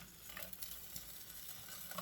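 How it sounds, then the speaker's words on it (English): Chicken wings sizzle inside a cheap Walmart air fryer used as an RV appliance, a soft, steady crackling hiss that runs evenly throughout with no voices. "You can hear that sizzle."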